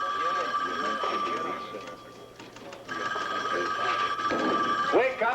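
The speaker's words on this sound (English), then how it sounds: "Will somebody get that phone?" An office telephone bell rings repeatedly in a busy police squad room, its bright trilling rings continuing under overlapping voices and background chatter.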